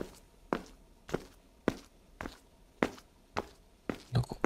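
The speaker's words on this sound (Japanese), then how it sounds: "なんか歩いてる音がする。" Footsteps in the horror game Ao Oni 3 walk at a steady pace, about eight evenly spaced thuds over a few seconds. They sound moderately close, with no talking over them.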